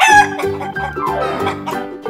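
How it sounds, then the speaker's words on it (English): A rooster crows in one loud, close cock-a-doodle-doo with layered, wavering harmonics and a strained rising call, stretching across the whole stretch with no talk. "Chicken."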